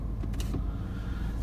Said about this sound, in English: if you keep your finger on the button, the side windows come up